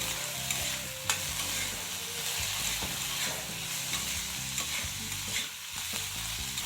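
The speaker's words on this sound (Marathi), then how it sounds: "आता डाळ घातलेली आहे त्याला परत परतून घेऊया" Soaked kadvanchi wild vegetable and dal are stir-fried in a pan, with a soft, continuous sizzle under repeated scraping and clinking from the stirring spoon, fairly quiet and with no talking.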